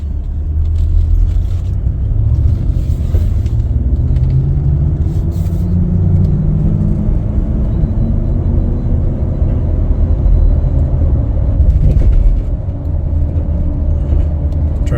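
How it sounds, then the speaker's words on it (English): A lifted 2017 Ford F150 XLT 4WD crew cab pickup on a test drive, its engine and road rumble steady and close throughout, with a low drone under the cabin and no talking. "Take it for a little test drive here. We already put it in gear."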